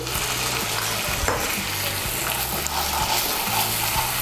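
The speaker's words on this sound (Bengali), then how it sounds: "মশলাগুলোকে ভালো করে মিশিয়ে নিয়ে মশলাটাকে আমি ভালো করে কষিয়ে নেব।" A ground-spice paste for pomfret fish curry fries in a pan while it is stirred. A steady, loud sizzle runs throughout, with rhythmic scraping strokes of the spoon beneath it.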